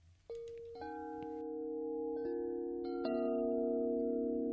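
A large 78-inch Wind River Eclipse Collection wind chime is struck several times, its low, rich tones building and ringing on in a long, layered sustain, quiet but clear with no talk.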